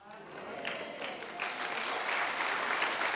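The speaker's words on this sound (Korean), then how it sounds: "하나님께 박수." A church congregation at a prayer-retreat revival service claps for God, the applause swelling and growing louder and denser, with voices mixed into the clapping.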